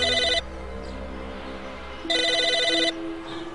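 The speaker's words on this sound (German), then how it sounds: "Moment, seit wann klingt das Telefon?" A telephone rings in the Psychonauts video game, sounding two distinct electronic ring bursts separated by a pause, loud and alone with no talking.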